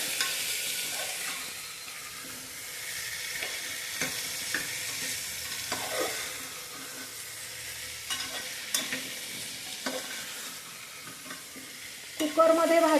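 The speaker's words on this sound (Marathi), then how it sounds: "हे पण छान 1 मिनिट आपण परतून घ्यायचे" Vegetables for an eggplant and potato curry are sautéed in a pan, giving a soft, steady sizzle broken by a spoon's scraping stirs, with no talking.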